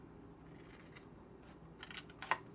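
Scissors snip paper for a Snowy Delights slider box, a couple of faint cuts near the end over a quiet background hum.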